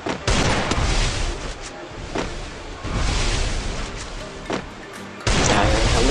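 Gunfire in a Free Fire solo match, dense and loud, with rapid bursts of shots and sharp cracks that roll on in waves, briefly easing before a heavy new volley starts near the end.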